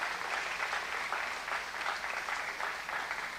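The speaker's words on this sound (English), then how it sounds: "it's time for one big applause" Audience applause at a Juneteenth commemoration event, a steady even wash of many hands clapping for several seconds at moderate distance, with no voices over it.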